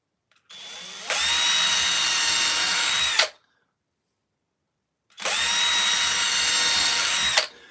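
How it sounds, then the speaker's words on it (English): A small power drill whines steadily through wood in two long runs of about two to three seconds each, separated by silence, close and loud. "So what I need to do is swap that to a smaller drill."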